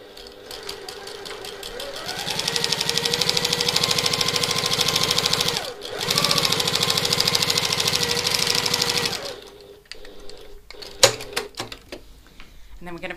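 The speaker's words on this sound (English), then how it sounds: "we're going to sew through all of these layers along the bottom" A sewing machine runs steadily through the thick layered bottom seam of a satchel, two sustained bursts of stitching with a short pause between, then stops with a few clicks and handling noises.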